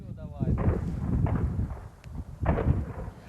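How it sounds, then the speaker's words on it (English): Gunfire from Russian soldiers shooting back at an enemy scouting party near Kharkiv, heavy booming reports spaced out over a few seconds, distant and rumbling, with wind noise on the microphone. "The Russians shoot back."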